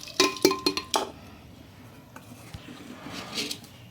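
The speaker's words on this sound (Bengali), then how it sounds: "এখন এটা প্রেশার কুকারের মধ্যে দিয়ে দিচ্ছি" Washed, soaked lentils going into a pressure cooker, with a quick burst of sharp metallic clinks and clatters at the start, then quieter shuffling and faint scraping.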